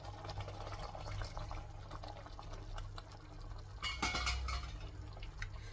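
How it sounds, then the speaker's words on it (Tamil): Tamarind water is poured into sambar gravy in a pot, a quiet, steady splashing stream with a light clink of the vessel partway through. "அந்த புளி தண்ணியை நான் இதில் ஊற்றிக்கிறேன்"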